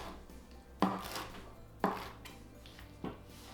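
A knife chops green and purple cabbage with carrots on a cutting board, three sharp, evenly spaced strikes about a second apart, close and clear against a quiet kitchen background.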